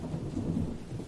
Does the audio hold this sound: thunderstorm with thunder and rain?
yes